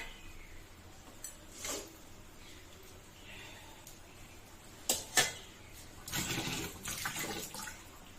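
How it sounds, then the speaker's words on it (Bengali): Water poured from a container into a cooking pot of potatoes and fish for a Bengali chorchori, a couple of short splashes followed by a longer steady pour in a quiet kitchen. "একটু জল দিলাম"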